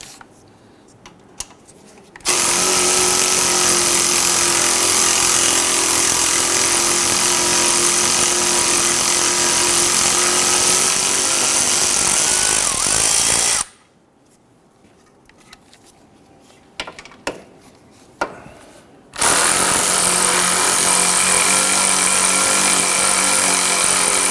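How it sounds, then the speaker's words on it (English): A power tool with an 8mm socket loosens and removes a screw on the front lower rearward control arm of a 2011-2023 Dodge Charger, a loud steady whir running for long stretches, stopping briefly, then starting again. "Using an 8mm socket, we're going to loosen and remove this screw right here."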